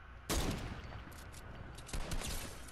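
Two loud bursts of rapid gunfire from a video game ring out close by, a brief pause separating them, with no talking.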